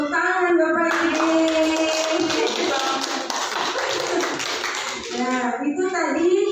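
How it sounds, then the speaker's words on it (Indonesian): A small group claps together for a few seconds, with voices speaking just before and after the applause. "Tepuk tangan Bapak Ibu."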